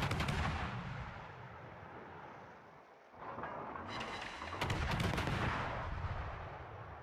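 Naval gunfire in a warship video game, with the ship Kunming near the USS Roosevelt, rumbles in heavy booming salvos and rolling blasts, dipping briefly before louder crackling fire resumes.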